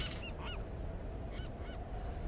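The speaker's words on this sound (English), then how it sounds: "Hey, seagull." A seagull in the Tomb Raider (2013) game gives several short, moderately loud nasal calls in two brief bursts, heard over a constant low rumble of ambient game noise.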